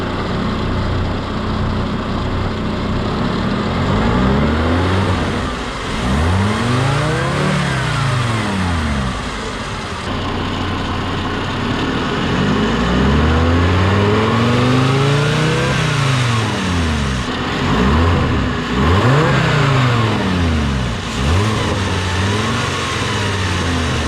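A 2006 VW Rabbit engine fitted with an Injen cold air intake revs repeatedly, swelling and falling in several distinct pulls over a steady idle, heard up close and loud with no talking.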